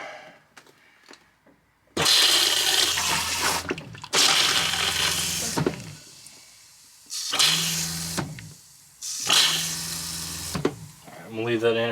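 A toilet in a Stryker 3212 toy hauler RV being winterized flushes in several loud rushing surges of water, each a couple of seconds long with short pauses between, close to the listener.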